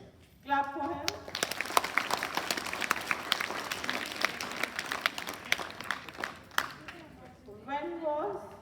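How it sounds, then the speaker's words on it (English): Classroom applause for a student, a burst of scattered hand clapping from the class lasting several seconds, with a teacher's voice talking just before and after. "Clap for him."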